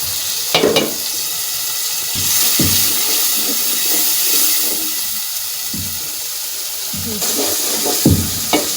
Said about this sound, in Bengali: এইভাবে কিছুক্ষণ কষাতে হবে।